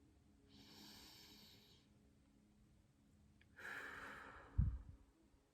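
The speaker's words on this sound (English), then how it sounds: "I like to take a deep breath." Two slow, deep breaths, a long inhale and then a fuller exhale ending in a soft puff, close and quiet in a calm, still setting after meditative mandala making.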